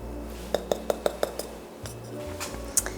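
Vegan biscuit ingredients are tipped into a bowl with a quick run of five light, evenly spaced clinks, then a softer shuffle and one bright chink at the end.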